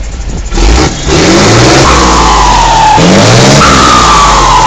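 Car engine with a turbo revving and accelerating hard, a loud, close, continuous rise in pitch that climbs, drops at a shift and climbs again, with no talk over it.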